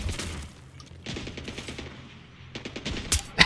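Gunfire in Splinter Cell: Blacklist, with short bursts of rapid automatic shots around the middle and near the end, separated by quieter stretches, loud and close.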